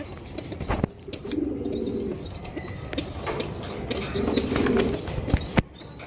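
A large Rajgolla pigeon coos in low, throaty bursts twice, with sharp wing flaps and claps at the start and end against a busy background of chirps.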